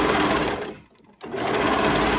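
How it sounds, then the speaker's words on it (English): A serger sews fabric with a loud, dense mechanical whir that stops abruptly for a split second and then starts again at full speed, close up with no voices. "I'm gonna show you how I do it on my serger."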